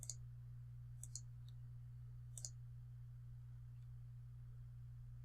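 Computer mouse clicking during web design layout work: a few sharp, faint single and double clicks spaced across the stretch over a steady low electrical hum, with no voice.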